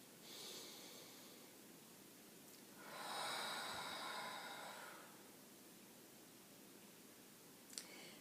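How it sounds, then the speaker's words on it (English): A single deep breath, a slow soft inhale and exhale close by, quiet and alone against a faint hum. "Deep breath."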